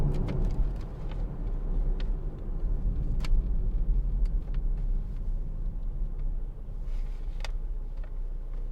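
A Hyundai i40 1.7 CRDi diesel estate drives along with a steady, smooth low rumble of engine and road noise heard from inside the cabin, with occasional faint ticks and clicks over it and no speech.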